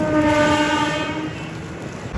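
Decorated passenger train from Guntakal to Markapur Road rumbling along the rails on a bend, with a loud, sustained horn blast over the running noise; close, no talking.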